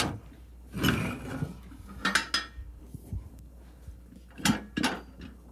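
A tire tool levered clockwise around the rim of a small tire to pop the bead free, giving several separate metallic clanks and scraping clicks at moderate volume with quiet pauses between them.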